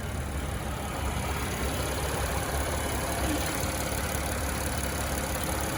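A 2020 Cadillac XT5 Premium Luxury with an all-wheel-drive V6 idles steadily, giving a smooth, continuous low rumble with an even hum throughout and no voices.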